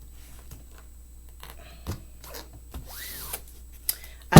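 A deck of tarot cards is cut and shuffled by hand, making soft, brief riffling and sliding rubs that come in short bursts, close up and quiet.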